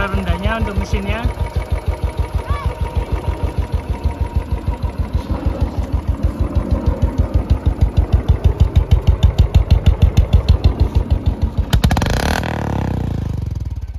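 A Royal Enfield 500cc motorcycle idles nearby with a low, even single-cylinder thump, steady for most of the stretch before a sudden cutoff near the end; someone talks over the engine.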